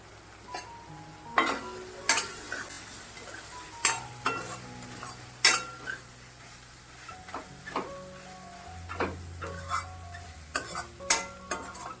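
Masala with turmeric sautéing in oil in a pan, with a low sizzle under repeated sharp scrapes and knocks of a spoon stirring at irregular intervals, close and alone.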